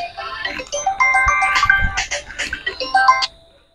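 A phone call being placed rings out as a repeated electronic ringtone melody in bright tonal bursts, steady for about three seconds and then cutting off.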